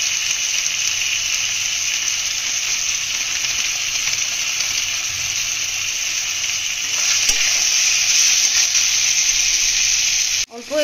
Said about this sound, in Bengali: মশলাগুলো ভালোভাবে কষিয়ে নেব।